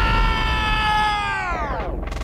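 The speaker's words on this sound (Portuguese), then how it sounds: "Filme de explosão depois do DVD Sharp." Film explosion sound effect played through a Sharp DVD system, a loud booming blast with a long descending rumbling tail that fades, then a brief rushing burst at the end.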